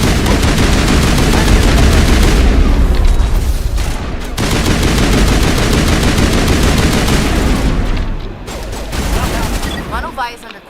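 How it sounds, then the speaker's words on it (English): Dense, continuous crossfire in the Mass Effect video game, with rapid gunshots and automatic bursts layered loudly for many seconds, thinning briefly near the end, with game voices talking underneath. "Manovine is under coordinated crossfire."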